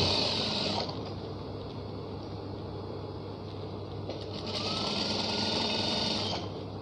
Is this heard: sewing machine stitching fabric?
yes